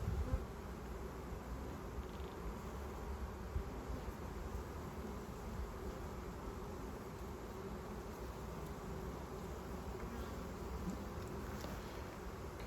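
Bees drone steadily at an opened hive in a botanical garden, a dense, continuous buzz of many insects close by, with no talk over it.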